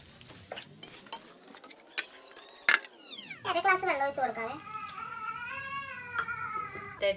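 Fried chicken is stirred into biryani masala in a pot, making intermittent scraping and clinking of the spoon against the pan with a faint sizzle. Speech runs over much of it.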